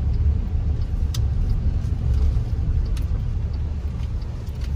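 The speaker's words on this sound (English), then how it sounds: "we're trying to figure out how to do the gas and the brake" Car engine rumbling steadily at close range with constant low road noise as a learner driver practices using the gas and brake pedals, no talking.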